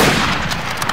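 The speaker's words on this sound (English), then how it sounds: "it was basically a hunting rifle" A hunting rifle in Garry's Mod fires a single loud, close gunshot that fills the moment with a broad, dense burst, trailing off with no voices.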